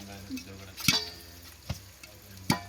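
Butter popcorn kernels popping in a pan, three sharp separate pops spaced about a second apart over a low steady sizzle, close by.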